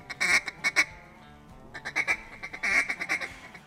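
A duck call sounds a broken feed call imitating ducks on the water, short bursts of clucking quacks in uneven groups separated by brief pauses, close and fairly loud, no voices.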